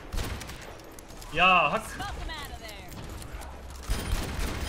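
Scattered gunfire from a Halloween Junkenstein match in Overwatch crackles under excited talk, with a shouted voice rising in the middle and shots continuing faintly around it.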